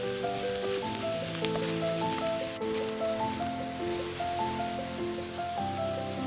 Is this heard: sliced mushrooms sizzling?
yes